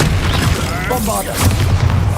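Bombarda blasting spell going off in Hogwarts Legacy, a loud booming explosion with rumbling low end and swirling magical effects, under a spoken voice and game noise.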